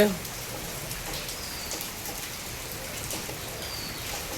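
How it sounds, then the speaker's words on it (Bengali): Heavy rain pours outside at an ashram, a steady dense hiss of drops on surfaces that stays constant throughout, with faint bird chirps barely audible behind it. "বাইরে খুব বৃষ্টি হচ্ছে"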